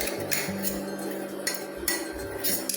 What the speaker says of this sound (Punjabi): ਹੁਣ ਆਪਾਂ ਇੱਕ ਬਾਉਲ ਦੇ ਵਿੱਚ ਕੱਢ ਲਾਂਗੇ ਚੰਗੇ ਤਰੀਕੇ ਨਾਲ ਇਹਨੂੰ ਉਤਾਰ ਲਾਂਗੇ ਮਿਕਸੀ ਦੇ ਵਿੱਚੋਂ